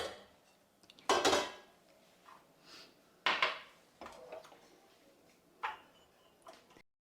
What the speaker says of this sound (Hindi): अब इसको छान लेते हैं।